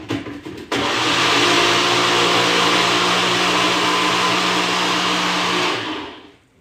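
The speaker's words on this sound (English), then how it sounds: "I'm just gonna blend it for about 30 seconds" A kitchen blender whirs loudly through black beans and seasoned sauce, starting abruptly after a moment, holding a steady motor drone for several seconds and then winding down, with no one talking.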